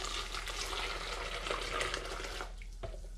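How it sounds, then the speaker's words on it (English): Hot water from a kettle pours steadily into a brine mix for smoking salmon, a faint continuous splashing that tapers off near the end. "Now I've got a litre of hot water that's just out the kettle."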